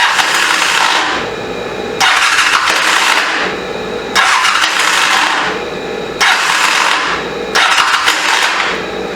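A 1985 Honda CMX 450 Rebel motorcycle engine cranks in four repeated bursts of about two seconds each, the starter whirring with a harsh, clattering mechanical noise from a faulty starter clutch each time.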